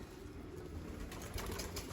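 Dolapçı tumbler pigeon cooing near a coop, a soft low murmur running steadily through the clip over a dense ambient background.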